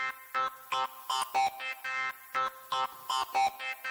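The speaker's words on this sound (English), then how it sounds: "And we're getting that acid bass kind of sound." Acid bass synth with cutoff and resonance modulated by the Gatelab iPad app, a choppy run of short gated notes with squelchy, shifting tone, fairly quiet and heard alone without talk.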